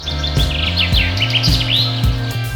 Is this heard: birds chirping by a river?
yes